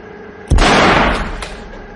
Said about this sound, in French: Je place la cartouche dans le barillet et je tire sur le pied de cette table.